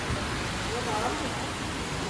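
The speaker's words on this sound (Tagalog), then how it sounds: "Grabe naman ang ulang dito." Heavy rain pours down in a Philippine province setting, a dense, steady wash of hiss that fills the moment close and loud, with no clear voices over it.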